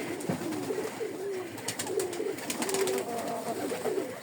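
Domestic pigeons kept alongside chickens coo repeatedly in low, throaty phrases just before feeding time, several soft calls rising and falling over a quiet yard with faint rustling.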